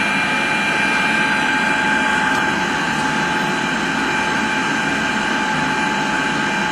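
Tupolev Tu-154M jet engines in a flight simulator game spool up as the throttles advance for takeoff, a loud constant whine with steady tones over a continuous roar.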